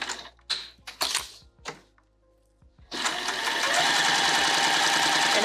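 A sewing machine stitches fabric corners at a 3mm stitch length. A few separate clunks of the needle come first, then after a pause it runs in a steady, rapid whirr to the end.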